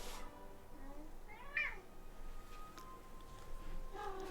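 Bengal cat giving a short meow, faint and somewhat distant in a quiet indoor room, with a few soft ticks and background hiss around it.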